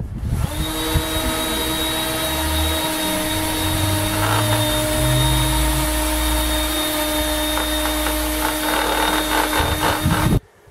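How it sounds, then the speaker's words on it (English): Volkswagen Golf headlight being sanded with an AutoGlym 800 grit sanding disc on a power tool, a loud continuous motor whine with steady abrasive scrubbing that runs for about ten seconds before stopping abruptly. "from the kit I've now got the 800 sanding disc, so we're just going to give the headlight a sand with that to start"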